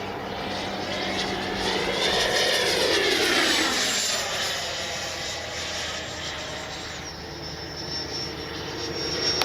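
An FMS 80mm F-86 Sabre RC jet flies overhead with a steady whining ducted-fan roar whose pitch sweeps up and then down as it passes. A high thin tone holds above it throughout and there is no talking.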